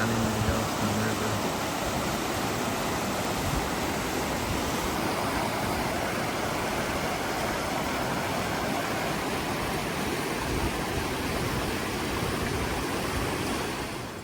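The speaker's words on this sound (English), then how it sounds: "another outlet from the hot springs of the Grand Prismatic Pond flowing down into the Yellowstone River" Hot spring outlet water from Grand Prismatic in Yellowstone runs steadily down toward the Yellowstone River, a continuous broadband rush like a small stream or cascade, close and even throughout with no voices.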